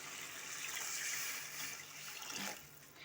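Water poured into semiya upma in a cooking pan, a soft, faint gushing splash lasting a couple of seconds that tapers off, with no talk.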